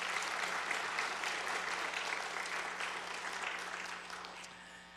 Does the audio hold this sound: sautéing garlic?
no